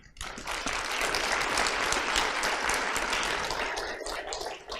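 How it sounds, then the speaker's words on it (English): Sustained applause from an audience at a Women in Data Science conference in Romania, honoring the winners; dense, steady clapping fills the room evenly for several seconds before tapering slightly at the end. "Let's give, please, one last applause to all of them."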